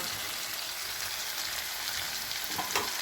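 Vegetables for a paella frying in oil while being stirred, a steady close broadband sizzle with faint crackles throughout and a brief louder spatter near the end, no voices.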